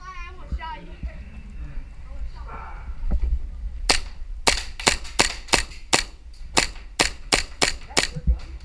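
Airsoft guns fire during an outdoor airsoft battle: after some talking and background noise, about a dozen sharp, loud snapping shots ring out in a fairly regular rhythm, some close together, with people speaking around them.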